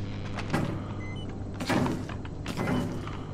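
A door is forced open in the horror game Outlast: Whistleblower, with three heavy creaking, thudding pushes spaced about a second apart over a low steady hum.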